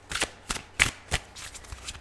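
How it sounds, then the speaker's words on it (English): Tarot cards being shuffled by hand, a handful of quick, crisp riffling bursts in an irregular rhythm, close and clear with no talking. "So let's just keep shuffling for"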